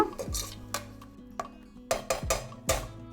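A metal spoon stirring yogurt in a pot for a cooker egg biryani, making sharp clinks and scrapes against the pot at an irregular pace, close and clear.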